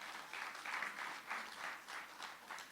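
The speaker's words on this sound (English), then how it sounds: "give the team a special round of applause" An audience at a local government reform consultation in San Fernando claps steadily in a continuous, moderately distant wash of applause with gently pulsing swells, no voices standing out.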